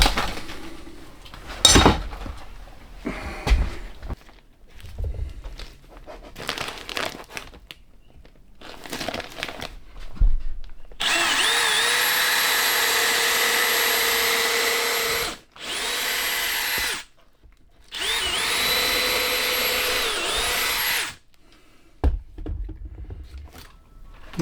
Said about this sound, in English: I still got to drill holes down and run it underneath of the crawl space